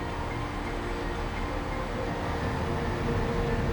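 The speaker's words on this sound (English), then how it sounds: "a train loaded with containers runs between the TMA terminal in the port of Amsterdam and a diversity of terminals in the port of Rotterdam" Freight train loaded with containers running between port terminals in Amsterdam and Rotterdam; a steady, moderately distant rumble of rolling wagons with faint metallic squeal, continuous throughout and no talk.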